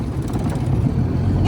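A 1969 Johnson 9.5 hp outboard motor idles steadily on a boat in water, a close, continuous low engine drone throughout.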